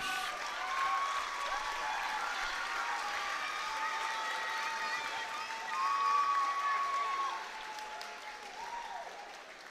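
Sustained crowd applause for seniors at a high school boys basketball game fills the gym throughout, swelling slightly midway, with faint cheering and some high tones mixed in.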